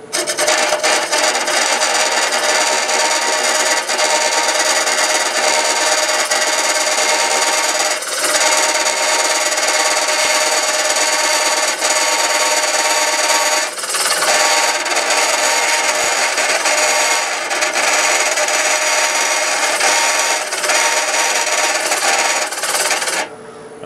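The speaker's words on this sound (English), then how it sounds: "The vibration you hear is because I've got the offset on it now" An offset hollowing cut on a wood lathe turning a short stack gives a loud, continuous rough grinding and rumbling vibration for over twenty seconds, with a few short dips as the tool lifts.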